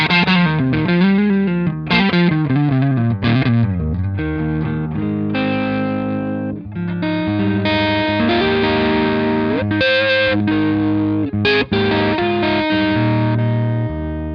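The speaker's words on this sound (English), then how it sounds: "It sounds like your guitar amp just gained up." An electric guitar played through a Bad Cat Burmese overdrive pedal gives a thick, gained-up distorted tone, with sustained chords and single-note lines ringing continuously and loudly with no talk.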